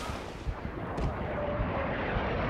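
A grenade goes off in Rising Storm 2: Vietnam, a deep, rumbling blast with a low, lingering roar of battlefield noise and distant thuds around it.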